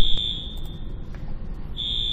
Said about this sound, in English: the fire alarm's going off because I think they're doing maintenance on it right now